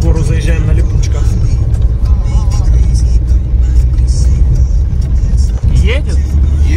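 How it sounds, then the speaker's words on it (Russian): A car on studless winter tires climbs a mountain road near the Lago-Naki plateau in the Caucasus reserve, its engine a steady, close drone under almost constant conversation. "Вот мы в гору заезжаем на липучках"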